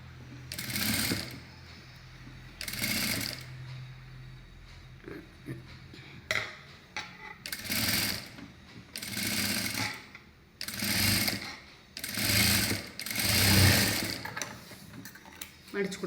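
A sewing machine runs in repeated loud bursts as it stitches folded canvas cloth for a high-neck blouse, with short pauses between runs and faint background sounds.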